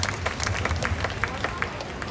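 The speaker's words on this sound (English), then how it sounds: "a round of applause for Susie" Spectators at a bird show at Jurong Bird Park in Singapore give a round of applause, many hands clapping in a steady patter with crowd murmur underneath, moderately loud and sustained.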